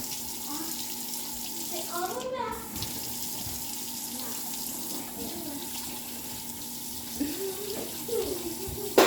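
A tap runs steadily into a sink while a child washes hands, with a constant soft water rush and light splashing. Voices speak quietly over it now and then.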